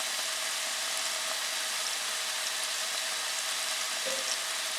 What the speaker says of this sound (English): Just want to let you hear the sizzle for a second.